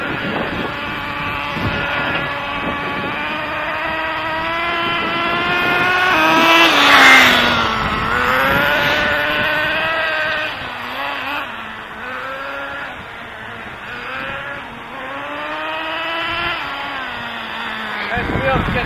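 Redcat Caldera two-speed nitro RC car engine buzzing steadily at high pitch, its tone rising and falling as the throttle varies and swelling loudest midway as the car passes close, with a voice faintly underneath.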